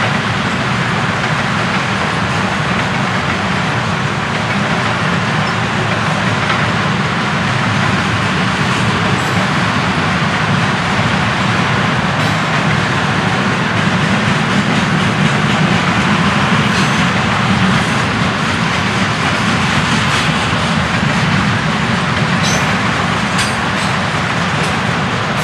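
A Florida East Coast intermodal freight train rolls past at close range, a loud steady rumble of railcars with rail clatter and wheel noise sustained throughout, no talking.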